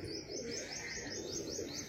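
A pigeon calls close by in a short run of quick, evenly spaced chirping notes, fairly faint, over a soft background hum.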